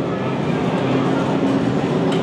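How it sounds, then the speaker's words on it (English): A moving train heard from inside a carriage gives a loud, continuous rumbling roar with a steady mechanical drone and no distinct pauses. "We're on the train, and we are armed and dangerous."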